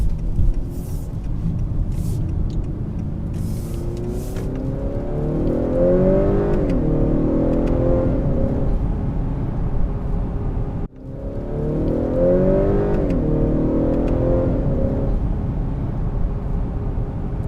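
A 2018 Honda Accord Sport with a 2.0-liter turbo and 10-speed automatic accelerates hard twice, the engine note climbing steadily under a broad rumble, cutting briefly around the shift before rising again, loud and close.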